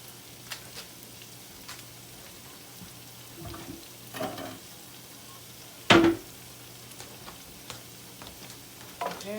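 Butter and pork gravy sizzle quietly in a pan, a soft steady fry broken by a few scattered clicks and one sharp clatter midway, with no one speaking.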